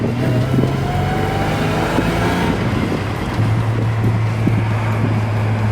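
A ute with a 4.11 limited-slip differential holding about 2,500 RPM in second gear, a loud steady engine drone with wind noise, heard from inside as the vehicle drives, no talking.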